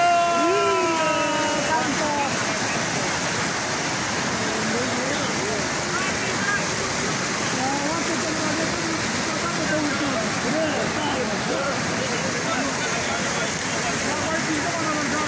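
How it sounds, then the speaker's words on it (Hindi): Fast-flowing floodwater rushes past in a steady, loud broadband roar carrying debris such as wood, continuous and close throughout. "ये देखिए व्यूअर्स, पानी की स्पीड देखें।"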